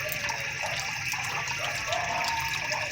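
Water pours steadily into a tank fitted with a float valve, a constant close gushing and trickling rush that barely varies.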